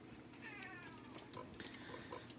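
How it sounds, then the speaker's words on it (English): A pet cat named Gus meows in a kitchen while milk is being stirred into food cooking on the stove, a few drawn-out wavering cries followed by shorter calls, fairly close and moderately loud over a steady background hum. "I think you probably all can hear my cat."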